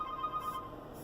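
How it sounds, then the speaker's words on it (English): Phone ringing through a Seicane 10.1 inch Android head unit installed in a Jeep Wrangler: a steady, repeating electronic ring tone, moderately loud in a quiet cabin. "So the phone's ringing."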